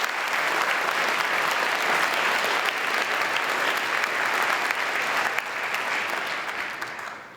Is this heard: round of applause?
yes